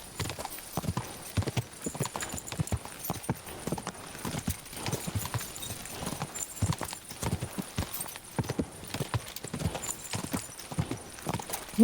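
Horse hooves clip-clop steadily and fairly close in Kingdom Come: Deliverance II, a brisk rhythmic trotting that carries on without pause for the whole stretch.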